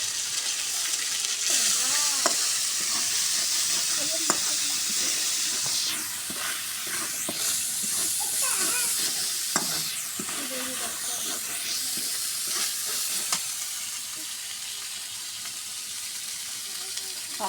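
Spice paste of ginger, garlic, coriander, turmeric, cumin and chili sizzling and hissing in hot oil in a pan, with intermittent scraping stirs, steady and close.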